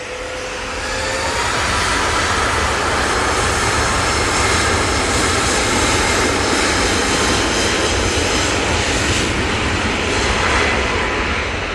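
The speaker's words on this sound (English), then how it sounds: "Got an arrival, so we are going to jump off that because this is a big plane" Large airplane arriving at Manchester Airport, a loud broadband jet roar that swells quickly and holds steady overhead with a faint whine, no talking.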